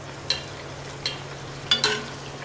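Bedmi puri deep-frying in oil over a low flame, giving a steady, gentle hiss with a few faint clinks and spatters; no one speaks.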